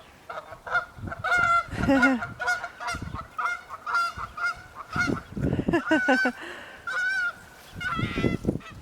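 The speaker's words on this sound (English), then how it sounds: "And the geese coming over?" Geese honk repeatedly in a loud, overlapping chorus, the calls carrying strongly as a flock passes close overhead.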